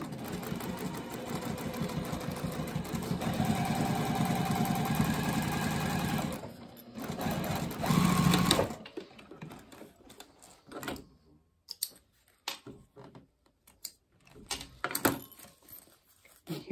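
Sewing machine stitching down the side of a fanny pack, a steady whirring run for about six seconds, a short second burst, then scattered clicks and handling noises as the fabric is moved.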